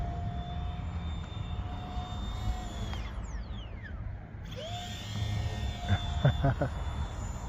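A J35 brushless EDF RC jet in flight gives a high, steady ducted-fan whine that sweeps downward as it passes, then climbs back up as it throttles on, ending with a few short clicks.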